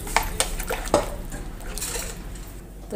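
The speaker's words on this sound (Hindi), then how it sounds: "तो यहीं भी लगा देते हैं ढक्कन" A lid is placed on a cooking pot of pea and potato curry, with a few sharp close metallic clinks and taps early on, followed by a quieter bubbling background.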